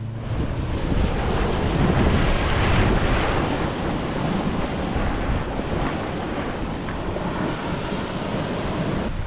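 Ocean waves break against rocks in a dense, loud, continuous roar, with heavy wind noise on the microphone and no voices.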